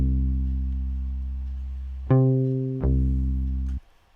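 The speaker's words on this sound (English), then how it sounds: "It is a Scarby Rickenbacker bass, palm muted version." A sampled Scarbee Rickenbacker bass played palm-muted gives three clean, deep sustained notes, each held and gently decaying, then cut off abruptly, played alone and close.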